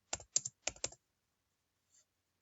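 Computer keyboard typing, two quick clusters of about three keystrokes each, then silence and one faint tap, close and isolated with no speech.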